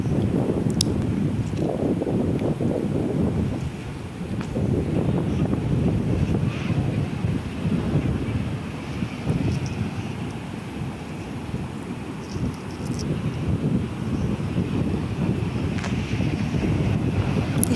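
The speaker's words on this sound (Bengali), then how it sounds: "এখানে সমুদ্রটায় প্রচণ্ড ঢেউ" Strong ocean surf rolls onto empty Chandrabhaga beach in Odisha, a continuous roaring wash in swelling surges, with heavy wind buffeting the microphone throughout.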